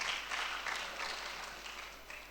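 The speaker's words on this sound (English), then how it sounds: "can we have a round of applause for the share guys?" A conference audience at SHARE Beirut 2012 applauds in a soft, dense patter that eases slightly over a couple of seconds.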